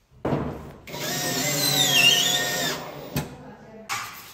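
Power tool driving screws while mounting a clothes-drying rack, with a close, loud whirring burst of about two and a half seconds, then brief shorter bursts and pauses.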